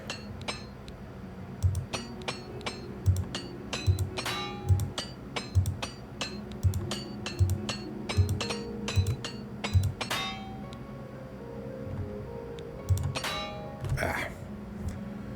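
Rapid metallic clinks of a repair hammer striking armor in Oblivion Remastered, a quick steady series of sharp taps over a low game ambience, closing with a brighter chime.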